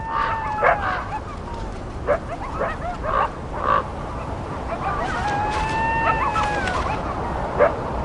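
Coyotes yipping and yelping in the wild, several short high calls and barks scattered over a steady outdoor hiss, moderately near.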